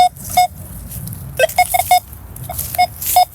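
A handheld metal detector beeps over steel shrapnel buried in forest ground, giving short, sharp tones that come singly and in quick clusters against quiet outdoor background noise.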